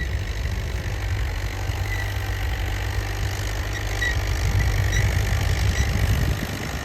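A New Holland 850 tractor, 85 hp, running with a cultivator attached, giving a steady low engine drone throughout that swells slightly near the end, with no talking.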